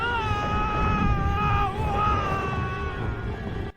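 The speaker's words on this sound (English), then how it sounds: "Did he just scream why?" A man screams in a low-budget B movie about sand sharks, a long sustained harmonic yell with a brief dip in pitch midway, loud and continuous over a muffled rumbling soundtrack.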